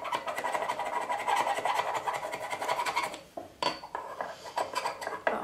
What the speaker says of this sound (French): Donc avec le couteau, alors du côté plat, moi bien sûr, je viens rabattre donc ce qui dépasse, pour que ce soit parfaitement plat.